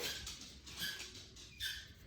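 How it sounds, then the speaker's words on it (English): A dog plays with a squeaky dog toy nearby, producing short high squeaks in a few bursts over soft rustling and patter. "excuse my dog with his dog toy over there"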